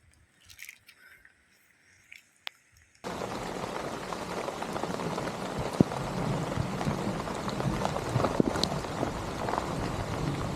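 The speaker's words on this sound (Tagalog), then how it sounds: "Lumalakas ang ulan." Heavy rain pours down steadily for most of the span, a loud dense hiss that starts abruptly after a few quieter seconds with faint noises, on a steep mountain bypass road.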